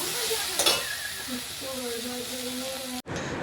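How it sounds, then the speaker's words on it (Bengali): Soybean chunks frying in a pan, with a steady close sizzle and hiss throughout, a brief stirring scrape early on, and a voice speaking under the frying. "সয়াবিনটা এখন ভাজছি"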